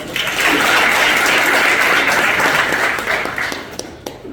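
Dense applause from an audience at a civic event about a citizen-led solar power survey, loud and steady for about three seconds before tapering off into scattered claps.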